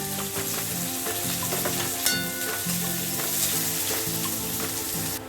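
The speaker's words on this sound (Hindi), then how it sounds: "वही तेल में हम ये प्याज डाल देते हैं। ऑनियन को ब्राउन करके हमें फ्राई करना है।" Onions fry in mustard oil for a rohu fish curry, giving a loud, constant close-up sizzle and spatter that runs unbroken over a faint steady hum, with no talk.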